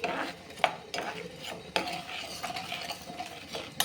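A spoon works through a food mixture in a pot, with steady close scraping and occasional sharp knocks against the rim, and no voices.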